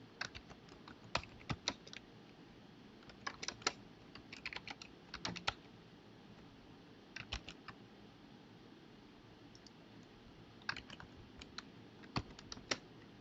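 Bursts of typing on a computer keyboard, irregular clusters of crisp key clicks separated by short pauses, close and fairly quiet with no talking.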